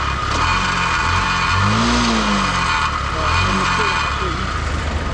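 A faulty motorcycle engine, hot after repeated attempts to start it, running and revving on a roadside during an all-India trip, with a steady loud engine drone and rising rev sweeps under a continuous background roar.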